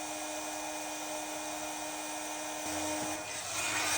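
A heat tool blows a steady, faint whirring hiss while heat setting white embossing powder, growing slightly louder and brighter toward the end.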